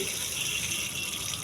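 Water runs from a household tap in a steady, unbroken gush, close and fairly loud, for a brief moment.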